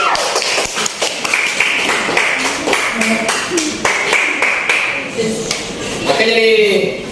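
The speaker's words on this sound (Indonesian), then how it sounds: "Berikan dulu aplaus untuk kelompok." Classroom applause breaks out for a student group that has just finished presenting, dense rapid clapping from many hands filling the room steadily for several seconds, with voices rising under it near the end.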